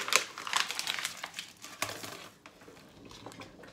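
Rose hip jam with sugar being stirred in a pot: a spoon scrapes and crinkles through the thick mixture in close, uneven strokes, busiest at the start and then easing into softer, quieter stirring.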